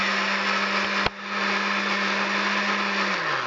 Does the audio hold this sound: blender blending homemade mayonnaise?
yes